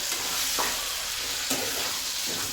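Dry red chillies fry in hot tempering oil for an aloo and tomato curry, giving a steady sizzle with a couple of soft stirring scrapes, fairly quiet and continuous.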